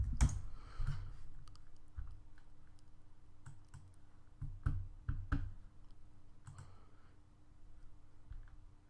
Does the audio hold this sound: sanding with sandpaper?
no